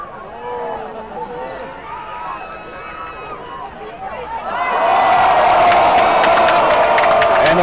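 A crowd at a US Quidditch Cup final between University of Texas and Lone Star QC breaks into loud, sustained cheering and whooping, rising sharply partway through after a commentator's voice.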